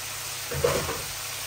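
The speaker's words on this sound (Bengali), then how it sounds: "শালগম গুলাকে ভালো করে ভুনবো।" Turnips frying with fish in a hot pan, a soft sizzle with a brief stirring swell in the middle of a short, quiet stretch.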